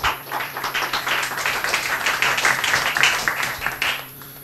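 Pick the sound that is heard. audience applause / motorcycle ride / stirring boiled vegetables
audience applause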